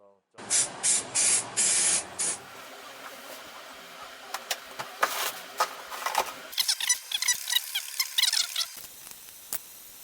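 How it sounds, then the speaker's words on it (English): Several short hissing bursts from a spray can close up, followed by rustling and clattering handling noises. "And then I'm going to spray it with some mold release."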